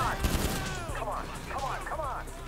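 Rapid gunfire from an AP pistol in GTA V, dense overlapping pops mixed with game effects and a chaotic firefight, with someone talking over it.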